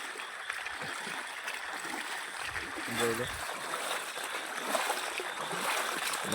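Rainwater runs and trickles along the ground during a heavy downpour, a steady splashing wash from start to finish with a brief low voice in the middle.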